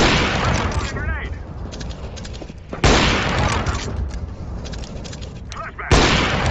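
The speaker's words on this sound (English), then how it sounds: "Throwing a grenade!" Grenade blasts in Counter-Strike: Global Offensive: two sudden, loud, broadband bangs a few seconds apart, each followed by a rumbling decay amid ongoing gunfire and match noise.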